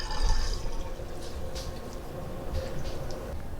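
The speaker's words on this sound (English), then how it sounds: "Now I'm just going to very gently squeeze out the water out of each item." Water squeezed by hand out of washed wool diaper covers during lanolizing, a soft steady trickle and splash of dripping liquid, close and alone.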